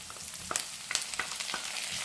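Bell peppers go into a pan with already softened onion, frying in a close steady sizzle dotted with small crackles and pops.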